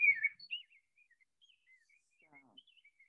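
A female rose-breasted grosbeak in woodland gives a brief louder call, then a series of faint, thin scattered chirps and short whistled notes, soft and somewhat distant against a quiet background.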